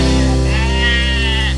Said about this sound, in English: There goes that sheep again.